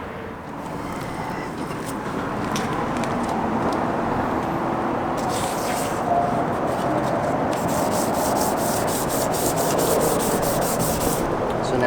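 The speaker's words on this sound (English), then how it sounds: "So the next step is to sand it." Steady, continuous rubbing and scraping of 400-grit sandpaper over a foggy plastic car headlight, a loud close-up scratching that runs unbroken with no pauses and no talking.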